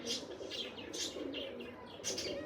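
Pigeons kept for a pigeon-flying contest coo and chirp softly in short repeated phrases, faint and close, with a quiet rustle behind them and no speech.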